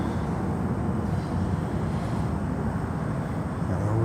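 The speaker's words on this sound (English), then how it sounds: "Lufty still taxiing to the gate" A Lufthansa airliner taxis toward the gate at Miami International Airport, a steady broadband low rumble of jet engines at idle that holds evenly throughout, with no voices over it.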